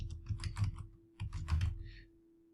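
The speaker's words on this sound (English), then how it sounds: "type in the name, hit search" Stock name being typed on a computer keyboard: two quick bursts of crisp, close key clicks separated by a short pause, fairly quiet, with no talking.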